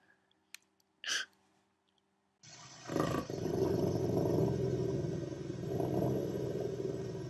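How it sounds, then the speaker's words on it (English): A wolf growl sound effect sets in after a few brief clicks and a short burst, then becomes a loud, rough, sustained roaring growl that lasts several seconds. "That's a growl."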